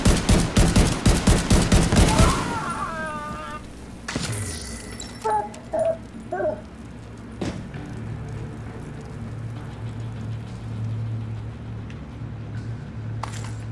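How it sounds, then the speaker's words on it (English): Rapid burst of automatic gunfire in The Division 2 during a medical camp attack, about a dozen loud shots in quick succession, then a heavy blast and scattered game sounds fading into a low ambient rumble. "As I was shooting that gas tank"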